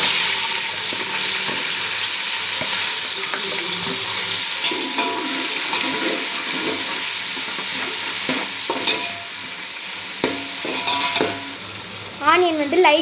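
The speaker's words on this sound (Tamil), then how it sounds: "ஆனியன் வந்து லைட் கோல்டு ஆனதுக்கப்புறம் பார்க்கலாம்." Sliced onions sizzle and fry steadily in a hot pan for biryani, with repeated scraping stirs of a spoon against the metal and a brief clatter near the end, close and loud.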